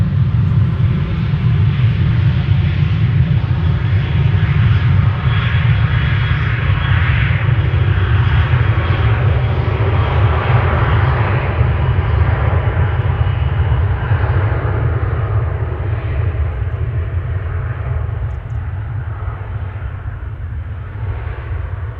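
A Tarom airliner departs Amsterdam Schiphol bound for Bucharest, its jet engines producing a loud, continuous low roar with broad rushing noise that holds steady and slowly eases over about twenty seconds, with no voices.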